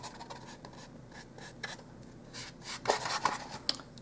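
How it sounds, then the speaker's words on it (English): A brush applies acrylic paint to dollhouse miniature exterior siding, giving soft, close rubbing and scratchy strokes in an uneven rhythm, with a couple of small clicks near the end. "So start by coating your area with some acrylic paint."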